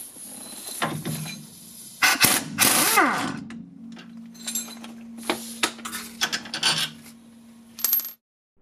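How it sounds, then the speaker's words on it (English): A socket wrench works the upper 14mm damper fork bolt on a 1999 Acura RL front strut, giving scattered metallic clinks and ratcheting clicks with a faint steady hum underneath, close and moderately loud. "Next, I remove the damper fork's upper bolt, which requires a 14mm socket."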